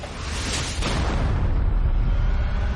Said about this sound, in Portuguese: 2 balas de canhão acorrentadas.